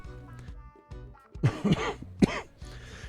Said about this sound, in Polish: dzisiaj mnie trochę kaszel męczy. Ale to kaszel palacza